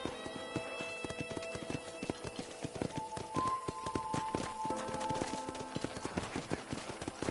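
Horse hooves clip-clop in a steady, quick rhythm while riding in Red Dead Redemption, the beat continuous throughout and set against soft sustained in-game music tones.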